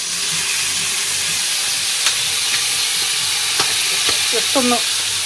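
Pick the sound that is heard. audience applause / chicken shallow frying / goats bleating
chicken shallow frying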